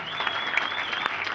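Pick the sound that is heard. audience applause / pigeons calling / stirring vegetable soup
audience applause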